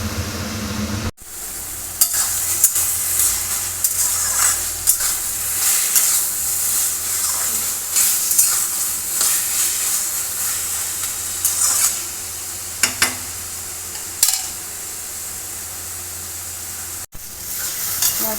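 Taro leaves cooking with coconut in a pan sizzle and hiss steadily, with frequent stirring scrapes and clacks throughout, fairly close and continuous.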